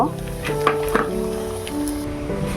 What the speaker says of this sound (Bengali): এবার আমি একে কিন্তু সবকটা এইভাবেই ভেজে নেব